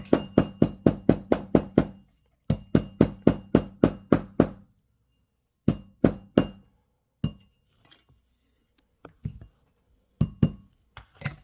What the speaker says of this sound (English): So what I'm doing is I'm hammering it and work hardening it.